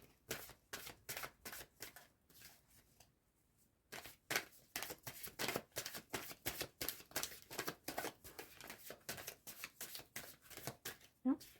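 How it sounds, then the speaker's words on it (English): Tarot cards being shuffled and drawn by hand, a long run of crisp, rapid riffling flutters with a brief pause partway, close and fairly quiet. "I'm going to now draw another 2 cards"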